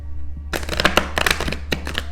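A deck of tarot cards shuffled by hand in a quick, uneven riffle of papery flutters and slaps, close up, over a faint steady hum.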